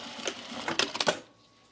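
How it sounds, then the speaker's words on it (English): Short bursts of a sewing machine stitch ribbon binding onto a boxy fabric bag, a few quick uneven pulses close by before it falls quiet. "We're going to sew it here."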